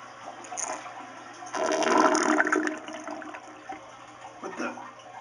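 A toilet flushes in a bathroom, and water rushes and drains in a loud surge of a couple of seconds that then settles into softer gurgling and trickling.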